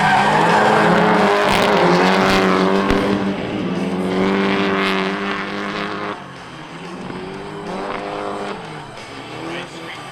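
Loud engines of drift cars at a drifting event roar as the cars skid and squeal their tires, the pitch swooping up and down, fading slightly toward the end.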